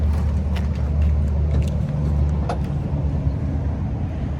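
Under the hood of a new 2026 Peterbilt 579, a 565 hp Cummins engine idles with a low, steady, loud rumble, and faint clicks and ticks sit on top of it.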